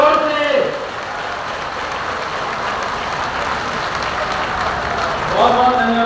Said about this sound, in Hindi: क्या आप साथियों मेरे साथ एक बार तालियों की गड़गड़ाहट से इनका स्वागत कर सकते हो?